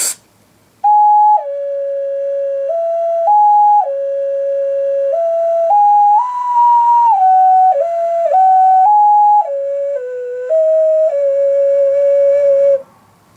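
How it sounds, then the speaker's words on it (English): Ocarina playing the Song of Time from The Legend of Zelda for the N64, a pure, breathy whistle-like melody of sustained notes stepping up and down in a slow, steady phrase, close and loud, played solo without voices. "That was the Song of Time from The Legend of Zelda for the N64."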